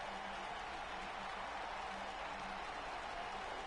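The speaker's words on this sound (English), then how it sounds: "listen to this crowd" Crowd at a wrestling event applauding after a match, steady dense clapping and cheering at a fairly even loudness throughout.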